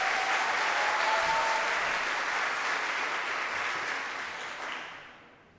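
Audience applause at a pledge ceremony, dense steady clapping from a crowd that swells briefly and then tapers off toward the end, with no voices over it.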